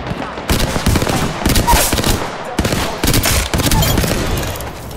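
Hemlock burst assault rifle firing in the PC game Apex Legends, loud repeated bursts of gunfire in close succession with brief gaps, dense and continuous over layered game noise.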